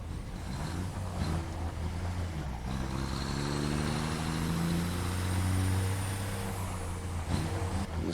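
Automated truck in the Satisfactory video game rolling along on autopilot, a steady low engine drone with a rising whine and rumble that swells midway, continuous and close.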